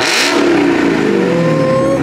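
A Dodge Scat Pack Charger fitted with a Whipple Gen5 supercharger, heard up close as the engine revs hard, climbing in pitch with supercharger whine over a loud exhaust roar.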